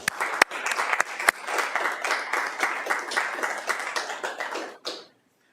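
Applause at a regular council meeting, a room of people clapping together with some sharp individual claps standing out, steady for about five seconds before stopping abruptly.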